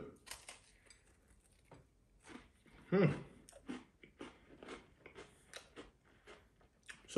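Crunchy peanut cookies are chewed close up, with irregular bursts of crisp bites and munching separated by short quiet gaps.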